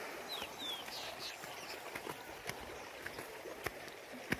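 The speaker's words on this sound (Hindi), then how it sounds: "ये कल कल बहती धारा," A babbling mountain stream in Uttarakhand rushes in a steady wash, with scattered bird calls and occasional knocks over the continuous flow.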